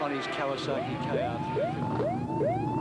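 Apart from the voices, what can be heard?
siren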